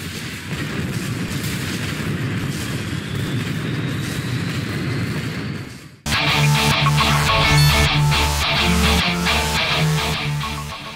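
A boss robot explodes in the video game Sonic Forces: heavy rumbling explosions and booms roll on, then give way to a louder burst of layered blasts with music-like tones, dense and sustained throughout.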